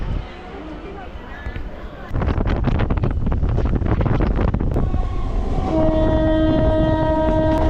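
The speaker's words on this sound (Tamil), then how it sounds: "இங்கே எக்மோர் ஸ்டேஷனில் இந்த சென்னை பீச் ட்ரெயின் வந்துருச்சு." A Chennai Beach suburban train pulls into Egmore station, its loud rumble and rattling carriages swelling up sharply partway through, with wind buffeting the microphone and steady tonal squeals or a horn-like drone rising near the end.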